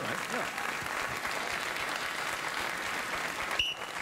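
Studio audience applause at a late-night talk show, a dense steady wash of clapping filling the room throughout at even loudness, with a brief voice or whistle near the end.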